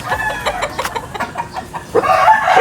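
Rooster crowing at a farm in Payatas, Quezon City, loud and close, with clucking fowl around it and a fresh crow rising toward the end.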